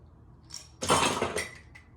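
A cocktail poured from a shaker with ice through a slotted spoon into a glass, a brief close splash and clink of ice against the metal and glass lasting under a second.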